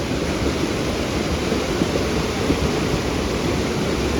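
Rainwater rushing across a washed-out stretch of the Manali–Chandigarh highway near Kullu during a heavy downpour, a constant loud watery roar that fills the whole clip, with no speech.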